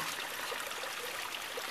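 Water running steadily through a 2-inch aquaponics pipe into a fish tank, a continuous close rushing trickle with even loudness and no voices.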